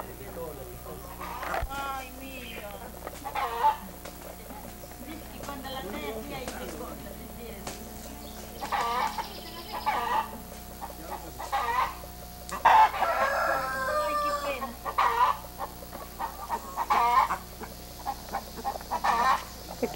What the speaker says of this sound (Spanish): Aquí se encuentran llorando por el pollito que acaba de morir.